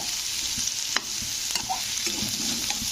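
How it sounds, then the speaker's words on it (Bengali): Ridge gourd and potato fry together in a pan, a close, constant sizzle broken by light scraping and clinking as the pieces are stirred. "তো চলো, আলুর সঙ্গে ঝিঙেগুলোকে ভেজে নিই।"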